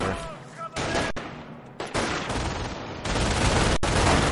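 A machine gun fires in a wartime strategy video game, with rapid bursts and sharp gunshots overlapping loudly, punctuated by abrupt cuts and booming impacts as the fire continues.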